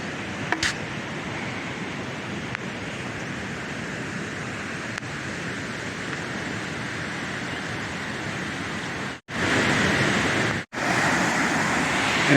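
Icy mountain stream in the Sawtooth wilderness, a close, constant rushing roar of flowing water, broken by two brief dropouts near the end.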